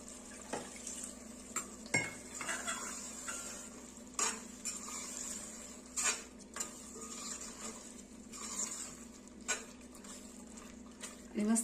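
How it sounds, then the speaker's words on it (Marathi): Fried eggs go into a masala curry in a pan, with soft sizzling under faint spoon and pan clinks. A voice talks over the cooking. "यामध्ये आपण घालणार आहोत फ्राय केलेली अंडी"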